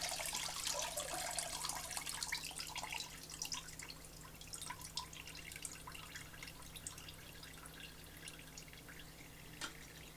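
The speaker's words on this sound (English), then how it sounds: "Open this up and let all that sanitizer come out." Sanitizer drains out of an Electro Freeze B24 ice cream machine, a steady trickle and splatter of liquid with scattered drips, close and moderately quiet over a constant machine hum.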